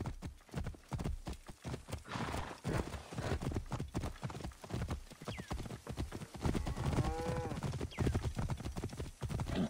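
Hooves clatter in a fast galloping rhythm during a horse race in the video game Assassin's Creed Origins, with a horse neighing partway through amid a busy, close-up rush of movement.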